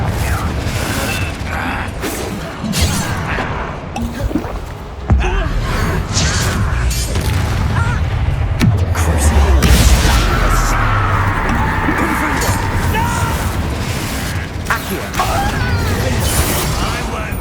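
Spell blasts in Hogwarts Legacy go off amid combat, booming impacts, crashes and cracking debris over a busy, loud game soundscape with brief vocal effort sounds mixed in.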